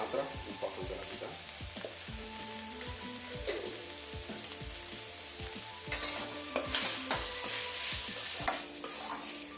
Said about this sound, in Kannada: ಈರುಳ್ಳಿ ಸ್ವಲ್ಪ ಬೇಯೋದಕ್ಕೆ ಸ್ವಲ್ಪ ಇದನ್ನು ಹಾಕೊಳ್ತಾ ಇದ್ದೀವಿ.